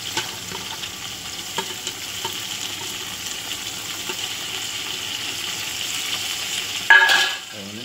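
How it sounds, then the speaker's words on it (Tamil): Mint and coriander being stirred into a large 2 kg pot of chicken biryani, a steady soft sizzle and scraping texture throughout, with a louder clattering burst of stirring near the end. "அதை வந்து நல்லா கிளறி விட்டுக்கோங்க"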